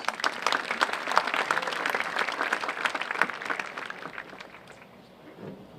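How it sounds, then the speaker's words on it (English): Graduation ceremony crowd at a high school applauding, a dense, loud wash of many hands clapping that holds steady and then thins and fades toward the end. "let's give them a round of applause"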